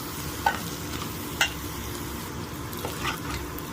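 Cooked rice stirred into frying egg for egg fried rice gives a steady close sizzle, with a few sharp clinks of a spoon against the pan and soft scraping; no talk.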